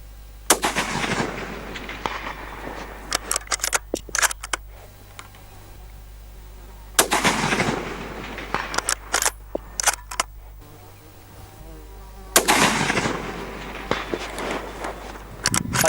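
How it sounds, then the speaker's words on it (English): A scoped rifle with a CDS turret fires three single shots at a 400-yard target, each a loud, close crack spaced several seconds apart, with quieter clicks and handling noises between them. "So I'll fire another 3 shots."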